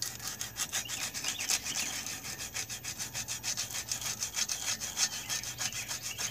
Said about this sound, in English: I got some 80 grit sandpaper. We're going to clean these magnets right quick.